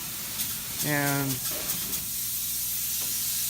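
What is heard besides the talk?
spray foam insulation being sprayed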